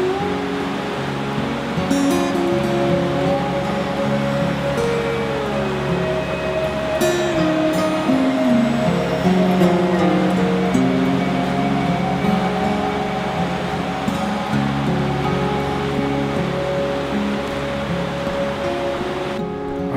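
A river flows steadily beside Elkmont Campground in Smoky Mountain National Park, a constant loud rushing wash that runs the whole time, with low rumbling tones mixed underneath.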